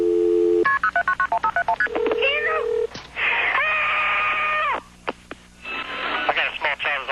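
Telephone keypad dialing tones beep rapidly in sequence, followed by rising electronic connection tones and long ringing signals as an emergency dispatcher transfers a call to EMS, loud and close.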